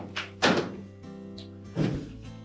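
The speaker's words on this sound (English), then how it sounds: "Lay the inner door panel up against it and then open the door completely." A Whirlpool dishwasher door swung fully open during a door switch replacement, giving a couple of close hollow thunks and clunks as the door and loose inner panel shift, brief and loud against a quiet room.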